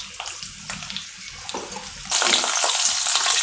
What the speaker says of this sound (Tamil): இதையும் நல்லா எண்ணெயில் போட்டு வறுத்து எடுக்கணும்.